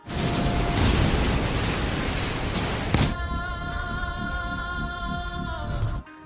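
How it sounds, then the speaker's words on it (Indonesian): A huge explosion in One Punch Man destroys city buildings: a loud, broad roaring blast with rumbling debris that sustains for several seconds, then gives way to a quieter passage carrying a steady tonal hum. "Tidak lama terjadi ledakan besar yang menghancurkan gedung-gedung."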